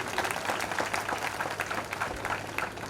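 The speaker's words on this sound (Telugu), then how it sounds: "అమ్మ నాన్నలకు ఒకసారి గట్టిగా క్లాప్స్ కొడితే నాకు వినాలనుంది" An audience at a college orientation programme applauds, giving an even patter of many hands clapping at moderate, fairly distant volume throughout.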